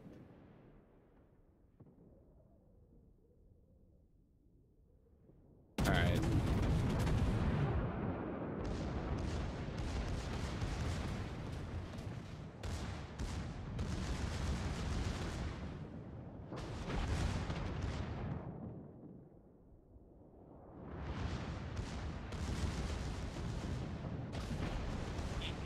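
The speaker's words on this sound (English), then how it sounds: "Those are my secondary cannons." Secondary cannons boom in a naval battleship video game: a quiet stretch gives way to a loud, dense barrage of heavy blasts and rumbling explosions that ebbs briefly, then surges again.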